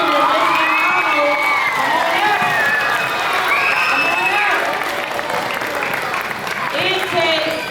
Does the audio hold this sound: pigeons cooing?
no